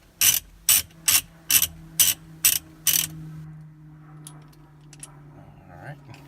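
A ratchet wrench loosens the steering wheel nut on a 1998 Porsche Boxster 986, giving seven crisp, evenly spaced clicking bursts close up, followed by faint handling noises under a low hum.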